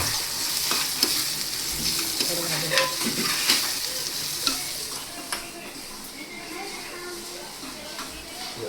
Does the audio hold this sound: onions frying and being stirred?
yes